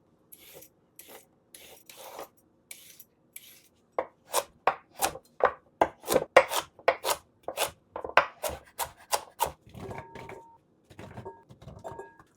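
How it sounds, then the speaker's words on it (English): Carrots being peeled for a Jamaican beetroot and carrot drink: a run of quick, rhythmic scraping strokes, close and fairly crisp, picking up pace mid-way before tapering into lighter strokes. "next up, we're going to peel some carrots"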